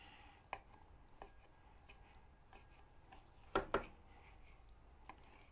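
A sharp knife slices through smoked chuck roast with a few quiet, scattered taps and scrapes on a cutting board, two firmer chops close together near the middle.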